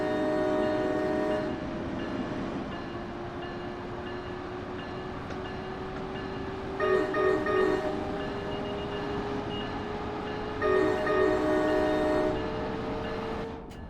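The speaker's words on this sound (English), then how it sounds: "Can you sound a horn for me?" A train horn in a train simulator game on a New York–Trenton route sounds in two sustained blasts, loud and near, over a steady rumbling engine drone throughout.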